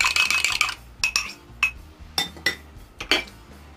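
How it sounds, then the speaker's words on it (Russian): Short metal-on-glass clinks and scrapes of a utensil beating an egg for brushing over honey cake dough, a quick rapid burst at the start followed by several separate taps, close and alone with no talk. "я взбиваю яйцо"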